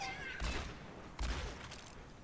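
Two single shots from McCree's revolver in Overwatch, each a sharp blast with a brief ringing tail, spaced under a second apart over a low game background.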